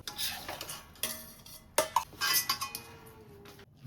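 Carrot halwa being served from a pan into a dish, with a metal spoon scraping and clinking against cookware in irregular taps and scrapes, close and fairly quiet.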